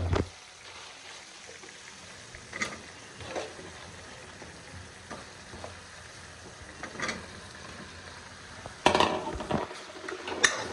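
Masala mushrooms being stirred in a pan: a faint sizzle underneath with scattered utensil scrapes and clinks, and a louder clatter near the end.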